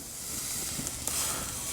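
A Cajun-seasoned tri-tip steak sizzles on a grill just after being flipped, giving a steady, soft broadband hiss with a few faint crackles, quiet and continuous.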